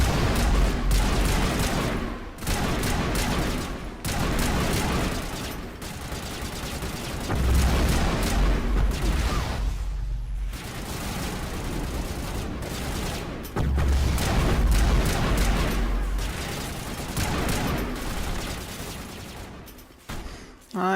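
Rocket-firing enemies and explosions in the Mass Effect video game: dense, loud barrages of shots and blasts that run almost continuously, broken by brief lulls.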